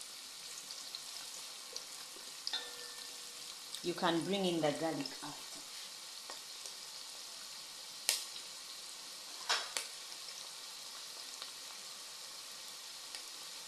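Mushrooms sizzle steadily in a hot frying pan, a soft continuous crackle, while a person speaks briefly over it.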